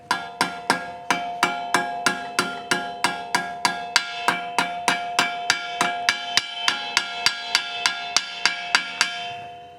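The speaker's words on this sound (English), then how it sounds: "So it's a press fit. I just hammer it on." Steady, evenly spaced hammer blows ring out on metal as a press-fit part is hammered onto a bicycle frame, about three per second, bright and resonant, continuing for several seconds.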